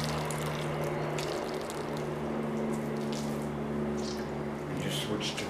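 Dirty, soapy wash water from cleaning an opossum hide is dumped out in a steady, continuous rush and splash that stays close and fairly even throughout.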